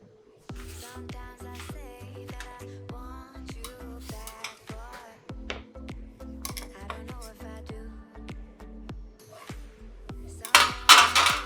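A plate and other dishes clink and clatter in a kitchen while a carrot cake is being plated, with scattered sharp knocks and rattles, some louder handling near the end, and people talking throughout.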